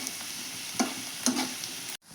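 Beetroot fries in hot oil with a soft continuous sizzle and two brief stirring scrapes, close by, cutting off abruptly near the end.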